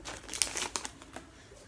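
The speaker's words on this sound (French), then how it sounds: "Les boosters sont toujours compliqués à ouvrir de ce temps-ci." Foil wrapper of a Pokémon card booster pack crinkling and rustling up close in a few quick bursts of sharp crackles, brief and fairly quiet, no voices.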